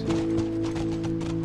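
Horse hooves clip-clop steadily in The Last of Us, a close, even rhythm of several hoof strikes over a low droning game ambience, alone without talk.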